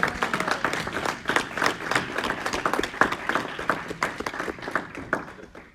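A church congregation claps together in a dense, steady burst of applause that carries on throughout, lively and fairly loud, with a few voices mixed faintly into the crowd.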